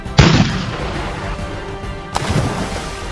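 Toy cannon on a Fisher-Price Great Adventures pirate ship fires twice, a sharp pop with a short burst of noise followed by a second one about two seconds later, fairly loud and close with no talking.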